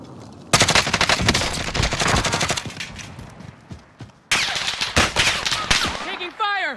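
Rapid automatic gunfire rattles in a Warzone match, loud close bursts of shots in quick rhythm, pausing briefly before another sustained volley, with a voice speaking over it.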